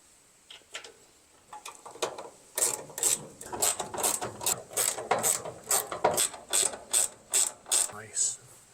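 A ratchet wrench snugs a nut down onto a bolt over a washer while a gear cooler is fitted to a budget NASCAR Camry build. The pawl clicks are close and crisp and come in a steady run of strokes that grows more regular.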